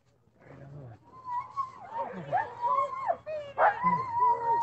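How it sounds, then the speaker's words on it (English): Iditarod sled dogs in a long string whine, yip and bark excitedly at close range in overlapping bursts, with a person talking among them. "This is a long string of dogs here."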